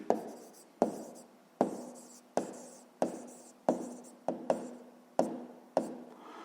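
Writing out an answer in a fifth-grade maths lesson comes through as about nine sharp, evenly spaced strokes, each with a short ringing tail, in a quiet room with a faint steady hum and no talk.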